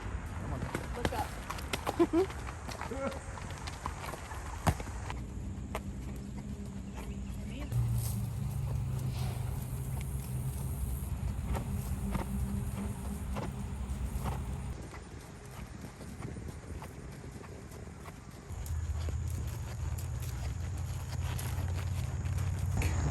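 Horses walk nearby while being petted, their hooves giving a soft, steady clip-clop over a continuous low rumble of outdoor background noise, with occasional people talking close by.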